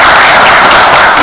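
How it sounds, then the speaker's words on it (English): A short burst of dense, steady applause from a conference audience at the Columbia Africa Conference, filling the room as a sponsor is introduced, with no voices over it. "please everyone put a huge round of applause for"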